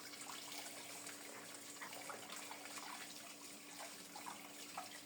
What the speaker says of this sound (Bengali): এখন মাছের পিস আর রুই মাছের মাথাটা খুব ভালো করে ধুয়ে নেব